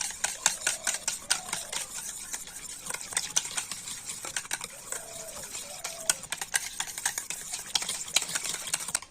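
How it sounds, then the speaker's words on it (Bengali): Sour yogurt mixed with white cooking oil is whisked briskly in a bowl, producing faint, rapid, irregular wet clicking and scraping strokes that continue steadily throughout with no talking. "আর এবার আমি তেল আর টক দইটা একটু ভালো করে ফেটিয়ে নেব"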